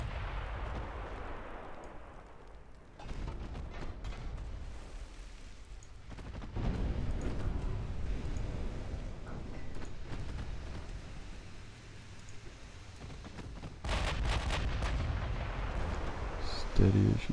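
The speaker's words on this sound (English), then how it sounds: "Let's see if I can get out of range of those 7-inch guns." Enemy 7-inch naval guns fire in the Ultimate Admiral: Dreadnoughts naval battle game, heavy booming reports that swell in several rumbling bursts over a constant low battle drone.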